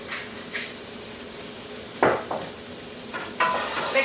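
Seasoned onions stirred in a pan, with a few scattered scrapes and clacks of a utensil against the pan over a low sizzle, one sharper knock partway through.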